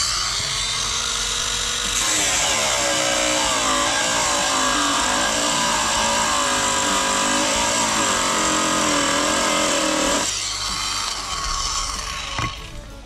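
A loud, continuous high-pitched angle grinder whine runs steadily for about eight seconds, then cuts off and winds down, with no talking.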